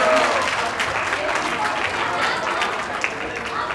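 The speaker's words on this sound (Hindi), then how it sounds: "आप लोग की तालियां बड़ी कम बज रही है।" Audience clapping at a wedding sangeet, a dense, steady patter of applause running throughout, fairly close, with voices mixed in underneath.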